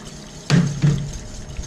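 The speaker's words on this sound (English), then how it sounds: "I'm gonna add the rest of my milk" Milk is poured into a roux for a béchamel sauce in two short splashing bursts, the second following closely after the first, close by against quiet kitchen background noise.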